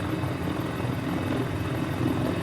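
A Mini 500 helicopter engine in Microsoft Flight Simulator gives a steady, loud rotor drone with constant low thumping and no pauses.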